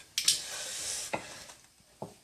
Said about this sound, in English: just going to take our batter, just need to mix it a little bit more.